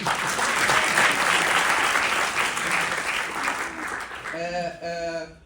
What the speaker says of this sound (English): Can you please give round of applause to my chair?